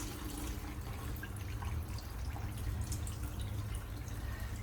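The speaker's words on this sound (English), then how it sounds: "it's dripping less and less and less" Fuel dripping from the filter of a Kubota L2050 tractor into a bucket, a steady patter of small drops over a continuous low hum, with no voices.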